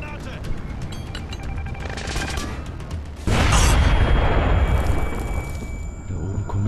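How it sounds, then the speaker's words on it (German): A grenade blast erupts in the stealth shooter Splinter Cell Blacklist, a sudden loud boom that swells into rumbling gunfire and debris noise, with faint game sounds and a voice beforehand. "Werfe Granate!"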